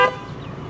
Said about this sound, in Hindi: इसका हॉर्न बहुत अच्छा है